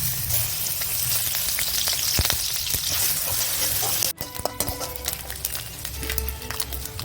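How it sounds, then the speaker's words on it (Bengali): Grated coconut frying in hot oil in a wok, a steady close sizzle and crackle, with a sharp cut midway and then sparser spitting and stirring scrapes. "তেলটা গরম হয়ে গেলে আমি নারকেলটা দিয়ে একটু ভেজে নিচ্ছি"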